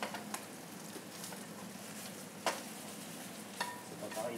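Kai-lan stir-fries in a pan with a soft, steady sizzle, occasional stirring scrapes and clicks breaking through, fairly quiet and close.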